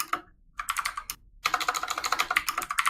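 Loud clacking on a computer keyboard, rapid close keystrokes in short bursts with brief pauses, no talking.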